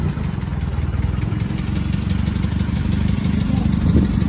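A 1924 Renault Type NN vintage car engine chugs along steadily at close range, a low, even, rumbling rhythm running throughout with no speech over it.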